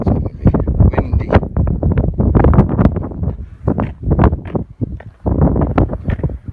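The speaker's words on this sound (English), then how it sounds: "It's going to be windy." Strong gusty wind at Meteor Crater buffets the microphone with loud, rough, irregular bursts of rumbling noise that continue almost without a break.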